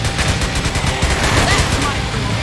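Loud, sustained rapid gunfire from the video game Metal Gear Solid 4: Guns of the Patriots, a dense continuous volley of shots filling the whole stretch.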